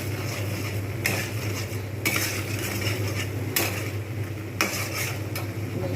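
Ground garam masala is stirred into egg korma in a pan over a low steady hum and gentle simmer. Four distinct scraping strokes of a spoon come at irregular intervals, with no talking.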